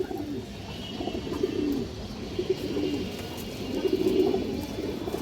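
Restless Muslodom pigeons, a breeding pair in a Bangladeshi loft, coo in soft, overlapping rolling murmurs that continue steadily, with no voices heard.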